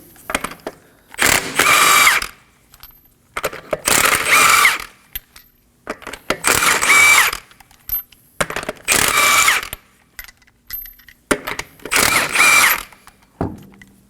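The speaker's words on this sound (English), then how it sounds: "Using a 21mm socket, we're going to remove the wheel." Impact wrench or power ratchet spinning lug nuts off a front wheel of a 2016-2020 Kia Sorento with a 21mm socket, five loud bursts of whirring about two seconds each separated by short pauses, close up with no talking.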